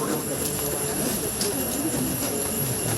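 A train rolls past at a level crossing, a steady broad rumble with faint wheel squeal, while voices murmur nearby.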